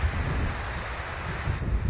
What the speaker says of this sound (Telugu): వర్షం కురుస్తోందో